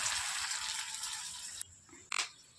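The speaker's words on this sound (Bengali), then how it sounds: "তো এখন সাবুর পকোড়া ভাজছি।" Sago pakoras fry in hot oil in a home kitchen, a soft, steady sizzling hiss that cuts off abruptly, followed by a short clatter.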